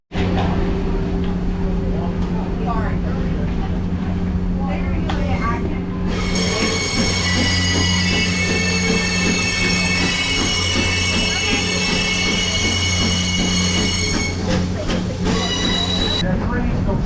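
A Great Smoky Mountains Railroad excursion passenger train of 16 cars rolls through the Nantahala Gorge near Bryson City, North Carolina, with loud, sustained high-pitched wheel squeal over a constant rumble and clatter, close by.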